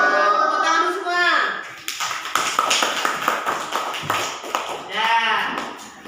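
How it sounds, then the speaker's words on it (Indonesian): Classroom clapping led by a teacher, a burst of hand claps between stretches of talk, with voices before and after. "Tepuk tangan semua"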